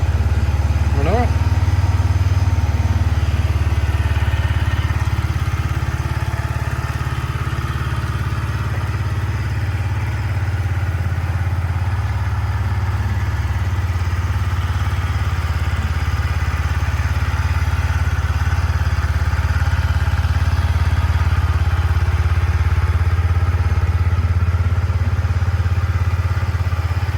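A Yamaha MT-125 motorcycle idling nearby, a loud, steady low engine hum with a faint clatter that holds evenly from start to finish.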